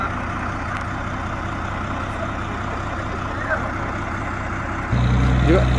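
Tractor engine running steadily under strain while pulling a motorhome out of mud, a continuous low rumble that grows louder and heavier near the end as the load is taken.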